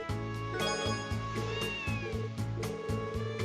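A black cat meows repeatedly in the Trails to Azure video game, loud and close, with game music running steadily underneath.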